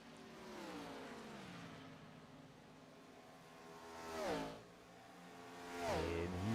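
A Hauck Designs Gen 4 series race car on the Auto Club track runs under a steady engine drone, then two loud passes sweep by with sharp pitch swoops near the end.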